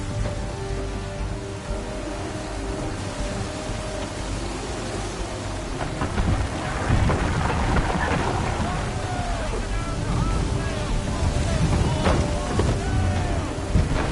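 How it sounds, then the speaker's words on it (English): Thunderstorm at sea in Assassin's Creed 3 aboard a sailing ship, a continuous roar of wind and rain with low rumbling that swells louder in the second half. "There's a storm coming, Captain. Feels like a big one."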